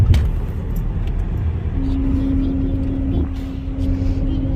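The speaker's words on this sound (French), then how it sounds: "Maintenant, il faut attendre que les camions sortent." Heavy trucks rumbling off a ferry onto the dock on the road to Turkey, a steady low vehicle drone with a sustained engine hum rising partway through, close and continuous.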